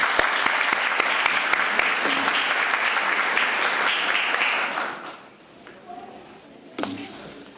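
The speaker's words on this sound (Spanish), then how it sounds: "Recibámosle con un aplauso." Audience applause at the opening of a psychology congress in Philadelphia, a steady burst of clapping from a seated crowd that fades out after about five seconds, followed by a short spoken line.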